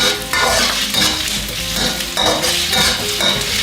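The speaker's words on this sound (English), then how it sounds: "When the shallot turn clear, it means that the shallot cooked, right? Just keep stirring." Shallots and firm tofu sizzle loudly as they are stirred in a pan, with a steady frying hiss broken by the repeated scrape and clatter of a utensil against the cookware, close and continuous.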